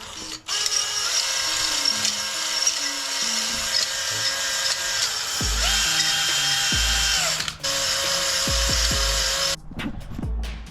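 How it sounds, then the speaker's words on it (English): Honing tool running inside a 7.3 engine cylinder during an F350 rebuild, a steady loud whine with shifting pitch, brief pauses and stops near the end, with no talking. "after 20 minutes of using that, the honing tool, this is what we have"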